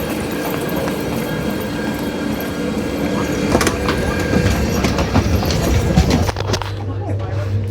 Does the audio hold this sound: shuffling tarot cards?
no